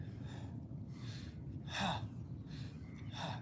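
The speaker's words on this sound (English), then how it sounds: "I'm going to breathe like this. I inhale my arms back. I exhale forward." Slow deep breathing during a group yoga session, several audible inhales and exhales in a steady rhythm, close and fairly soft over a low background rumble.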